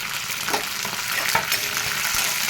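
Green chillies and brinjal sizzle in hot oil in a village-style kitchen, a continuous crackling fry broken by occasional stirring scrapes.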